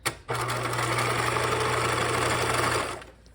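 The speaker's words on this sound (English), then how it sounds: "So I'm sewing along my marked seam line" A sewing machine stitches a backpack strap along a marked seam line, a steady close whirring run of about two and a half seconds with a low hum, then it stops; no voices.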